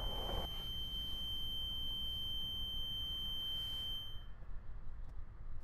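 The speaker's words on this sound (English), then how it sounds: "That's the sound of the ceiling hatch buzzer." A bus ceiling hatch buzzer sounds a steady high-pitched electronic tone continuously for several seconds, then cuts off, over a low background rumble.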